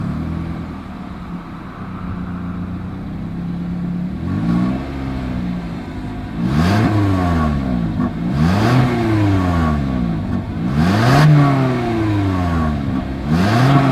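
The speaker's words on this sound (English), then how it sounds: "As always, here is that exhaust clip." A 2021 Toyota Corolla engine idles, then revs hard several times, its exhaust note sweeping up and dropping back in loud, close bursts.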